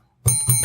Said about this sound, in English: hit the bell, please.